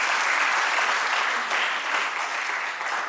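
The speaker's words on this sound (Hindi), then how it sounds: "बहुत एक बार जोरदार तालियां हो जाए इनके लिए।" Loud, steady applause from an audience at a college fest at DAV PG College, Varanasi, honouring a poet who has just recited a poem about Kashi; dense clapping holds evenly throughout with no voices.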